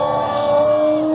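A race car roars past, a loud sustained engine whine with a slight pitch shift, close and dominant over the brief moment with no talking.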